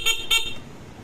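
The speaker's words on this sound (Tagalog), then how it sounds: "lumabas na yung lakas ng busina ng PIAA" A PIAA horn on a Yamaha Fazzio scooter with freshly redone wiring gives two short, loud, close honks in quick succession, then falls quiet.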